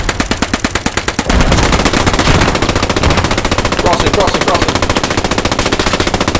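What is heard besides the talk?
machine gun suppressing fire in video game Post Scriptum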